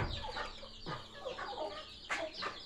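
Poultry chatter near a hen with newly hatched chicks, a busy mix of clucks and high peeping calls repeating irregularly, close and moderately quiet, with no talking.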